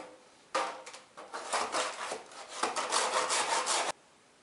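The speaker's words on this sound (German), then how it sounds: "Noch ein bisschen sägen." A hand saw cuts through a wood burl in steady back-and-forth strokes, a loud rasping scrape that starts abruptly, pauses briefly mid-way, then resumes before stopping cleanly, with no talking.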